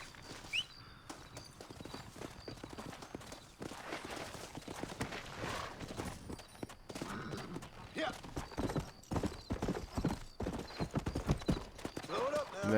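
Horse hooves clip-clop steadily in Red Dead Redemption 2 while a horse gallops. A whinny cuts in and someone talks over the hoofbeats throughout.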